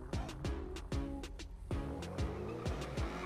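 Engine of a Bugatti Veyron in GTA 5, revving repeatedly, each rising whine ending in quick shift pops and sweeping tones, loud and close with rapid gear changes.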